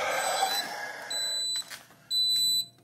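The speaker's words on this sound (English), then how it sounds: "I hear an alarm going off." An alarm at home tied to an AutoAqua smart skimmer setup sounds in repeated high-pitched electronic beeps, broken by short pauses, against a quiet room.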